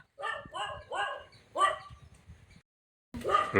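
A dog barks close by in a quick run of four sharp barks, then falls silent before a final loud bark.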